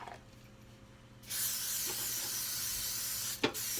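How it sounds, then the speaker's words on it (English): Pam cooking spray hisses onto a pancake pan in a steady, close aerosol burst lasting a couple of seconds, with a brief sharp clatter near the end and no talk. "Spray it down so it don't stick. And I'm using Pam."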